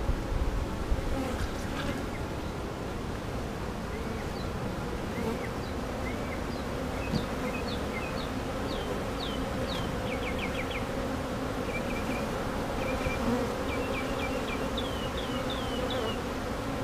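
Honeybees at a beehive on a farm keep up a steady, close buzzing drone throughout, while small birds chirp in short bursts in the background.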